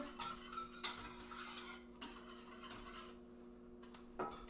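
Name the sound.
stirring a mixture in a pot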